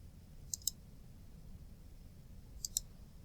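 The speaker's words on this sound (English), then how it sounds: "So you'll click this." A computer mouse gives two double-clicks about two seconds apart, crisp and close in a quiet room, with no talking.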